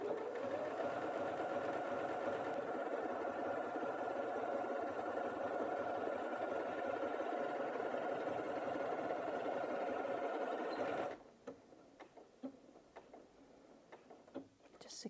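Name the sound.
Janome 8200QCP sewing machine sewing a reverse locking stitch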